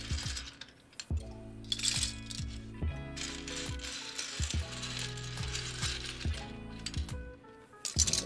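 Plastic keycaps being handled and pressed onto a mechanical keyboard, producing a run of sharp clicks, snaps and small rattles at an uneven pace, close and fairly quiet.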